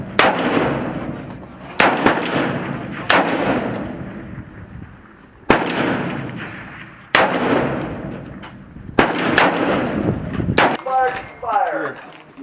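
Sharp, loud single shots from M4 carbine rifles at a zeroing range during an Army training exercise, roughly eight reports at irregular intervals, each cracking and echoing briefly, with a short burst of voice at the end.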